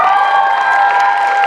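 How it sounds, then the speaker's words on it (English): Audience at a slam poetry showcase clapping and cheering loudly in a dense, sustained burst, with no speech over it. "Another round of applause for Dante"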